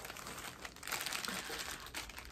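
Plastic packaging around medium baby headbands crinkled and handled up close, a busy rustling crackle that swells in the middle, with no talk.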